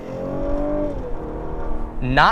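The engine of a 2016 Cadillac CT6 hums while driving, a close, steady tone that sags slightly in pitch before a short rising rev at the end, with a voice talking over it.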